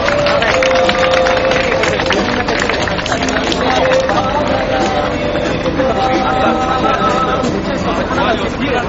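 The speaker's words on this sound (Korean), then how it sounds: "힘찬 박수 부탁드립니다." A rally crowd at a sit-in protest by families of Sewol ferry victims claps loudly and continuously, mixed with crowd murmur and outdoor noise.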